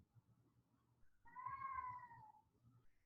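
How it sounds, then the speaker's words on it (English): A drawn-out, wailing cat yowl rises and falls over about a second, faint and somewhat distant in a quiet room, with low indistinct background sound and no talk over it. "I need to check on my cat because they're making really horrible sounds."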